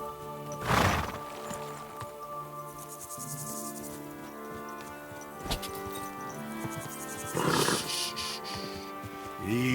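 A horse in Kingdom Come: Deliverance II neighs loudly twice, with hoofbeats and chirping crickets in between, set against a steady outdoor game ambience.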